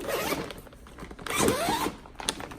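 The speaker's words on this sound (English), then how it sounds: "How do you open this up? Some kind of zipper. There's zippers here." A zipper on a storage-auction bag is pulled open in several close, loud rasping strokes, one long sweep in the middle and shorter tugs around it.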